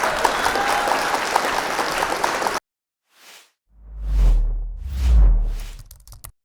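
Loud, dense applause fills a hall at a Surat mushaira poetry gathering, then cuts off abruptly, leaving a few soft low thumps and rustles.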